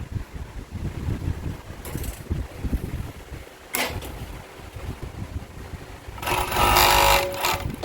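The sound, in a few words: sewing machine sewing boxer brief fabric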